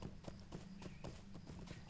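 Hooves of a blonde horse clip-clop in a video game, a steady run of hollow knocks about every quarter second over a low rumble, close and even in level.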